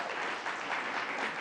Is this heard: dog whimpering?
no